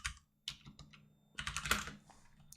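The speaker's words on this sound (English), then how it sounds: "I'm a bit slow at typing at the minute" Typing on a newly changed computer keyboard, slow irregular bursts of key clicks close up, with short pauses between flurries and a quiet room hum underneath.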